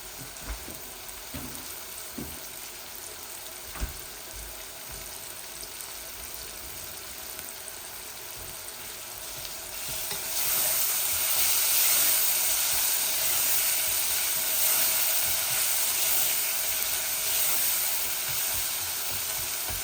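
Onions fry in a pan for a chicken curry with a steady hiss and sizzle, quiet at first with a few faint clinks, then swelling into a louder, brighter crackle about halfway through that holds to the end.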